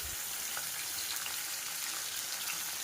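Pabda fish frying in a pan, a steady, even sizzle that holds at a soft level throughout with no voices.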